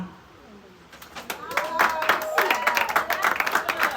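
A seated audience at a school certificate ceremony bursts into applause after near silence, many hands clapping in a dense, sustained patter with voices murmuring underneath.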